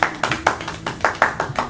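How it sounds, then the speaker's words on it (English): A small group claps in a loose, fairly quick rhythm, close and distinct, with individual hand claps standing out in a short burst. "Just clap for a bit longer."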